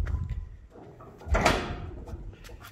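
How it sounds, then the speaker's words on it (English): Steel doors of a shipping container swing open, with a metallic clunk and a long creaking scrape as they part, set against quiet outdoor background. "Let's get these doors open."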